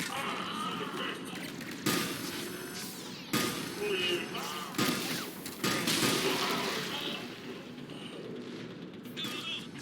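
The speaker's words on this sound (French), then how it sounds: "Subissons nombreux tirs de mortier." Mortar fire and gunfire during combat in the Mass Effect 3 video game, a series of heavy booming crashes and bursts over dense battle noise, with faint voices mixed in.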